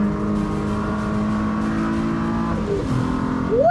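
Mazda MX-5 engine at full song on a lap of the Nurburgring, a loud, steady high-revving drone heard from close by, with a drop in pitch near the end before it climbs sharply again as the car accelerates.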